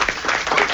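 Studio audience applauding during a quiz-style broadcast, a short, steady wash of clapping at moderate volume with no voices over it.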